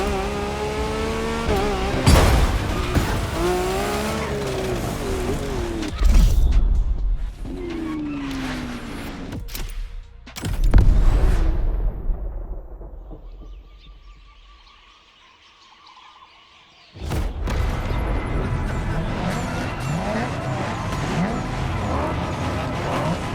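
A Nissan R34 drifts in the racing game The Crew Motorfest, its engine revving and wailing through slides with loud surges, a sudden drop to near quiet midway, then a strong return.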